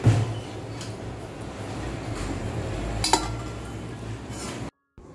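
A lid is set over a cooking pot in a home kitchen, with a few dishes clinking and one sharp metallic clank in the middle before the sound cuts off.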